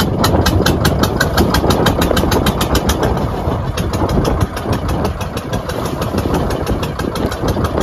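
A small fishing boat engine in the Sundarbans chugs loudly and close by, its pulses fast and rhythmic, running steadily throughout with no voices over it.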